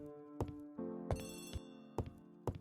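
A telephone rings in a bright, repeating electronic tone with sharp bursts, fairly close and loud, with no talk over it.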